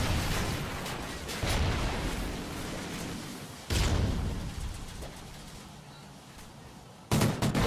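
Blasts and rumbling bursts from an esports first-person shooter match, with a grenade explosion among them, come as a few loud, sharp-onset booms over a dense, continuous wash of game noise.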